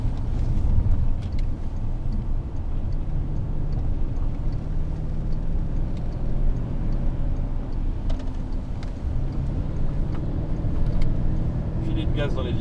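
A Porsche Cayenne laps the Croix-en-Ternois race circuit, its engine droning steadily with shifting pitch under road and wind rumble, while people talk in French inside the cabin.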